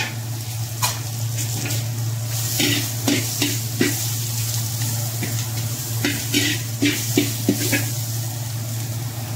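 Garlic and onion sautéing in a little oil as the base for a tilapia dish, a steady close sizzle with intermittent stirring scrapes and clinks of a utensil against the pan over a constant low hum, no talking.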